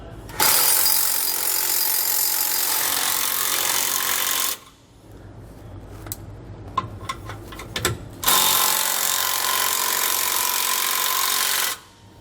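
A power tool drives bolts on SumoSprings helper spring brackets on a 2020 Winnebago, two long loud buzzing runs of several seconds each, with softer clinks and tool handling in the pause between them.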